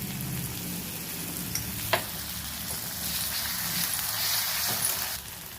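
Onions with ginger garlic paste frying in a pan, a steady close sizzle with a couple of sharp stirring knocks early on, and no talking.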